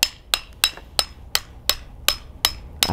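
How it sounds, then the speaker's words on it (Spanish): A hammer taps sheet-metal laminations of a small transformer to loosen them, nine sharp, evenly spaced metallic knocks close up with no talking. "Con un martillo aflojamos un poco la chapa."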